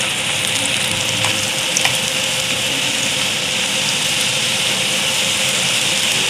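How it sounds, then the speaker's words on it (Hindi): Potato fries deep-fry in very hot oil, a dense, continuous loud sizzle and bubbling hiss with no pauses and no talking. "तेल हमारा गर्म है, इस टाइम पे इसे हम फुल डन कर लेंगे।"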